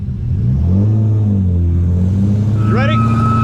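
A Ford Mustang 5.0 launches hard off the line in a drag race, engine rising from a low rumble into a loud climbing rev with tire spin, close and continuous.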